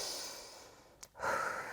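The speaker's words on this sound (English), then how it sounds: "take some big, deep breath" Deep breath during a yoga workout, a long audible exhale followed by a brief catch and a fuller inhale, close and soft, no talking.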